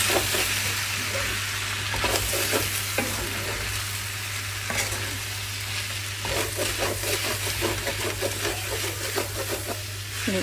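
Pork blood stew (dinuguan) is stirred in a pan, with repeated scraping strokes of a utensil over a steady low sizzle, close and fairly quiet, no talking.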